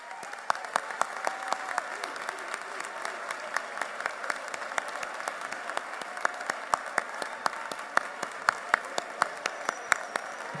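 Parents, grandparents, teachers and administrators at a school announcement event applaud at length, a steady patter of many hands with sharper individual claps standing out, moderately distant.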